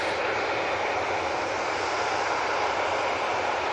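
Broad steady jet roar from two Boeing 787 Dreamliner engines at Manchester Airport, a continuous airy rumble with no break across the whole stretch.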